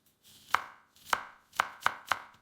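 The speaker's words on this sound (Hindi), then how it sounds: "अब आराम से प्याज काट सकते हैं।" A knife chops onions on a cutting board with five sharp, close thuds at an uneven pace, clean and without talk.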